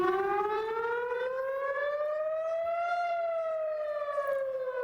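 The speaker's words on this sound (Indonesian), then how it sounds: "suara sirine memecah kesunyian di kota Tel Aviv Senin malam waktu setempat" Air raid siren wailing over Tel Aviv at night, a loud sustained tone rising slowly then easing back down, steady and alone with no voices.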